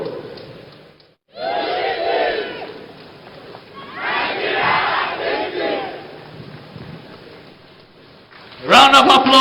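Stadium crowd at a Nigeria Independence Day celebration roaring and cheering in surging waves, distant and echoing over an announcer, swelling louder near the end.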